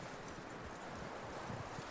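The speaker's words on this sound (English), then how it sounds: "That looks like a decent horse." Horse hooves clip-clop steadily in Red Dead Redemption 2, a continuous, moderately faint patter of footfalls with outdoor ambience and no talk.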